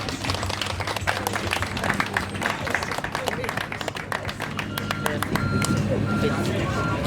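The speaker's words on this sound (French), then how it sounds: "applaudissons très fort Madame Françoise Bibi" An audience at an awareness-day event on breastfeeding in Bouaflé claps steadily at a medium distance, mixed with crowd noise and people talking over it.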